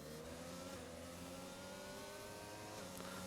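F1 race car engine from the F1 22 video game at the Circuit of the Americas in Austin, Texas, holding a steady high-pitched revving drone with rising harmonics, loud and continuous throughout.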